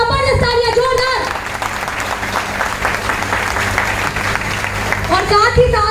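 Loud, sustained audience applause filling a hall at a direct-selling business seminar, clapping dense and steady throughout, with a voice speaking briefly over it at the start and end.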